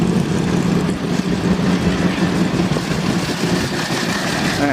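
An old hot rod's large engine idles with a low, steady rumble close by at the Old Crock Run motoring event, loud and continuous, with faint outdoor background noise.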